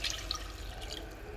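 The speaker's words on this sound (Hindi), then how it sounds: "तो हल्का सा पानी ऐड करूँगी।" Water is poured into a pan of simmering potato curry, making a steady, close, hissing splash that lasts about a second and a half with no voices over it.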